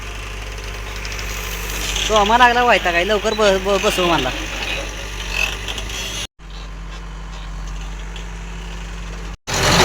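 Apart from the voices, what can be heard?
tractor engine running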